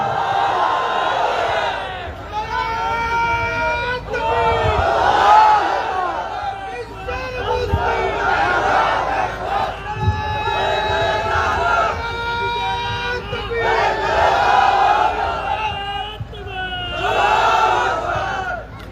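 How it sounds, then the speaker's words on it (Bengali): A large rally crowd chants takbir (Allahu Akbar) in repeated loud surges, roaring collective shouts rising and falling in waves for the whole stretch, close and dense. "কারা কারা তাকবীর ধ্বনি দিয়ে আল্লাহকে শোনায়"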